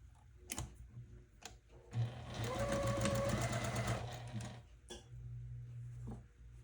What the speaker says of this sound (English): So let's stitch our first row together, or I may just go ahead and stitch all the rows together